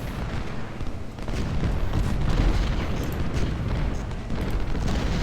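Artillery fire and battle noise in the Civil War strategy game Ultimate General: Civil War during the Shiloh campaign: a dense, continuous rumble of booms and distant cannon shots, loud and unbroken.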